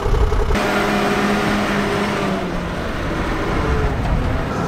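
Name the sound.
car engine revving while reversing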